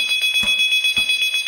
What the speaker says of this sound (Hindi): एक डार्क स्टोर में फोन की घंटी बजती है।